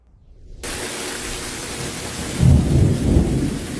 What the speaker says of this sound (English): it was thunder and hail in the valley.